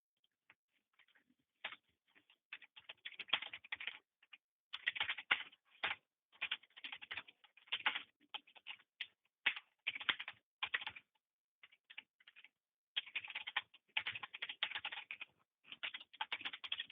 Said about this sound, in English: just as he's typing that